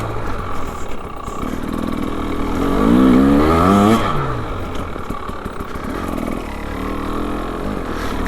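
A 2025 KTM 300XCW Champion Edition two-stroke dirt bike chugs under load in second gear, its engine note rising and falling steadily through the whole stretch with a brief louder swell midway, heard close and alone.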